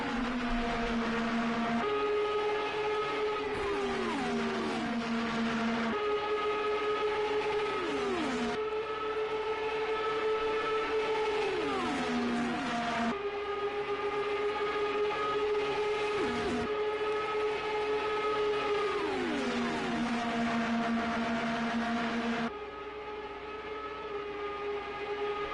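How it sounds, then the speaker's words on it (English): IndyCar race car engines in a racing video game at Indianapolis, several cars running close in a slipstream, their sustained high engine tones rising and falling through gear shifts, loud and continuous throughout. "Dalton has got back into the slipstream of his Dalton Autosport teammate."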